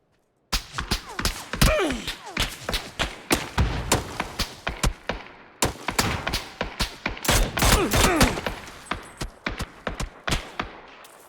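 Rapid bursts of gunfire in PUBG, loud and close, firing in repeated volleys that carry on for about ten seconds with barely a pause between shots.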